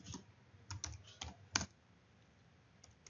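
Keys tapped on a computer keyboard in a quiet room, a few scattered clicks followed by a sharper keystroke, then near silence.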